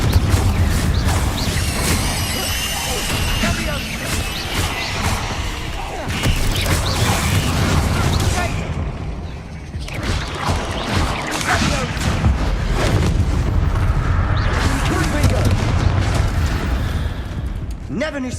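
Confringo fire spells blast spiders in the Hogwarts Legacy video game, with repeated booming impacts, crashes and creaking effects layered over dense, loud game sound throughout.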